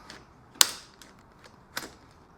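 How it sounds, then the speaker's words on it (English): Ratchet strap on a universal roof rack clicking as it is tightened: two sharp, close clicks with a few fainter ticks between, in a quiet setting. "when you want to ratchet it, hear that click,"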